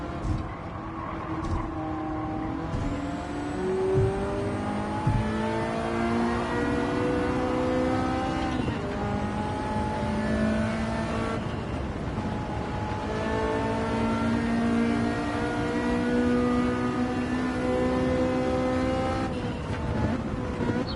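A car races in Gran Turismo 7, its engine revving steadily and rising through gears, shifting pitch repeatedly, with a continuous loud drone and occasional brief drops between upshifts.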